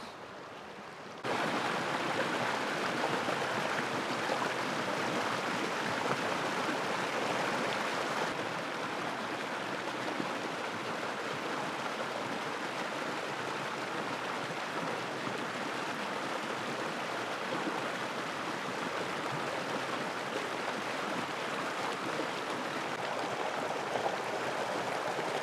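A river at a campsite in Carson National Forest, New Mexico, flowing just below a hammock, a steady broad rushing wash heard close and alone that continues unbroken.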